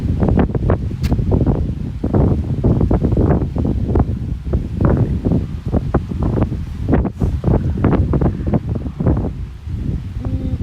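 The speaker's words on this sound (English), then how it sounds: "It's kind of windy up here." Strong gusting wind buffets the microphone continuously, a loud rumbling roar with no clear pauses.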